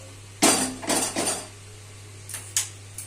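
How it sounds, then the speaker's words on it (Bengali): A wok (kadai) is set down on a lit gas stove, making a few sharp metallic clanks and scrapes, then quieter knocks over a steady low hum, close by with no talking. "এদিকে আমি গ্যাসটা জেলে কড়াইটা বসিয়ে দিলাম।"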